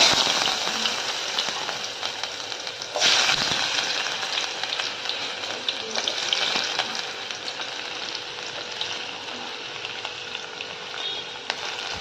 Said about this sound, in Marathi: सगळं आता आपण तेल तापत ठेवलेलं आहे. फक्त आपण आता कांदा टाकणार आहे.